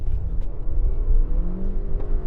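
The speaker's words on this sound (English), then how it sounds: "I'm just gonna basically go in, crank, and do full throttle in the snow." Lexus NX 250 AWD SUV revving hard at full throttle in deep snow, a loud, steady engine drone with rising whine heard from close by for a couple of seconds.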